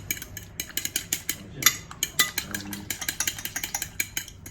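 One egg being beaten by hand in a bowl, rapid clicking taps of utensil against the dish in a steady irregular rhythm, fairly close with faint background hum.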